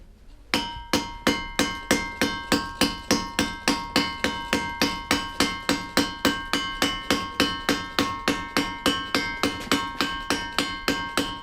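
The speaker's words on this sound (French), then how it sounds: "Pour les ciselures, les épannelages, c'est un ciseau à manche bois qui est nécessaire." A hammer strikes a wood-handled chisel carving stone, giving a long, even run of sharp ringing taps at a steady rhythm of roughly three blows a second. The taps are close and loud, with no talk.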